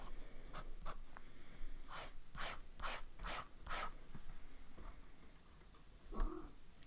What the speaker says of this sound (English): this is Lamy Al-Star with the fine nib